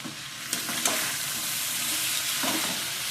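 A dish being stir-fried (kosha) in a pan, a dense continuous sizzle with a few scraping stirs of a spoon, close and fairly loud, no talking.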